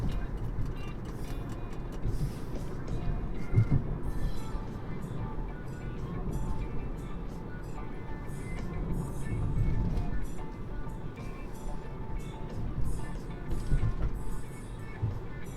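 2016 Toyota Prius hybrid coasting downhill under regenerative braking, a quiet steady cabin rumble of tyres and road noise with faint electric whine and occasional ticks, continuous and subdued.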